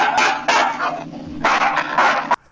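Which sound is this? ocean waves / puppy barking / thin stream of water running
puppy barking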